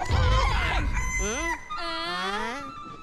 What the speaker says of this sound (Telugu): ఇది పెట్ట కాదు పుంజు.